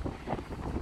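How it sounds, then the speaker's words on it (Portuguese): Strong wind gusts over a beach, a steady broadband rush buffeting the microphone with no voices. "Que o vento tá muito forte."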